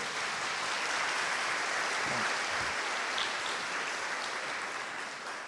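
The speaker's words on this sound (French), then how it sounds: "il ne faut pas m'applaudir parce que c'est mon métier" Lecture-hall audience at a medical school open day applauding a dean, a steady dense wash of clapping that holds at an even level throughout, fading slightly toward the end, with no voices over it.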